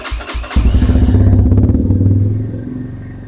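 A Trailmaster TM31 motorcycle engine cranks with a few short thumps, then catches and settles into a loud, close, rapidly pulsing idle that slowly fades.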